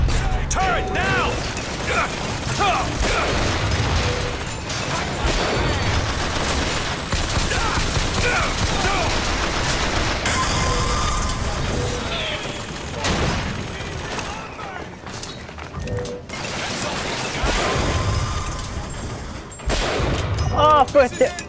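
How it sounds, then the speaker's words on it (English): An SMG turret opens fire in the BioShock Infinite game, sustained rapid automatic bursts with mechanical clatter and combat noise, with voices in the game mix and a louder burst at the end. "We got SMG turret."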